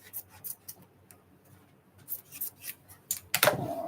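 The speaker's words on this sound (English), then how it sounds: "I'll go back with my other scissors to cut it closer" Scissors snip through material in a run of short, crisp cuts spaced irregularly, closing with a louder scrape and rustle at the end, close to the microphone with no talking.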